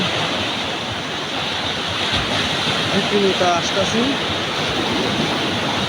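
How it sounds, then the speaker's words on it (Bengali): Large ocean waves breaking on a beach at night at Cox's Bazar, a steady broadband roar of surf filling the clip, with someone speaking briefly over it. "আপনারা দেখতে পাচ্ছেন সমুদ্র সৈকতে যে বিশাল বিশাল ঢেউ"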